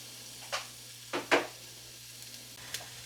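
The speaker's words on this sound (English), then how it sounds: "take our onions and start cooking them at medium to high heat" Onions cooking in a pan at medium to high heat, a faint steady sizzle marked by a few short scraping stirs near the middle and one more toward the end.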